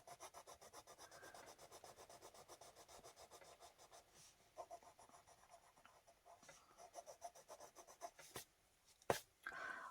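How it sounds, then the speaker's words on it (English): Colored pencils scratching across paper while shading a grayscale Halloween skulls coloring book page, a close, quiet rhythm of rapid back-and-forth rubbing strokes with a couple of sharper taps near the end. "Pencils sound good going down on the paper."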